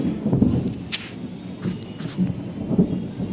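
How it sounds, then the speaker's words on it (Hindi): Thunder rumbling low and continuously through a windy drizzle, with rolling swells of deep sound and a soft hiss of wind and light rain, heard outdoors with no one talking. "सुने आप बादल की गरज।"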